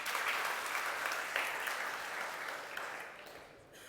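An audience at a religious discourse gathering applauds in a sustained wash of clapping that is fairly even, then thins out and softens near the end.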